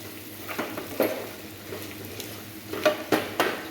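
Onions fried golden brown are stirred in a pan with freshly added ginger-garlic paste for khade masala chicken, giving a soft steady sizzle broken by a few scraping strokes of the spoon, close and moderately quiet.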